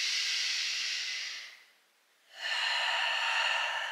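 Two long, deep breaths during a vinyasa yoga flow, a slow airy inhale then a brief pause and a second steady exhale, close and soft with no talking.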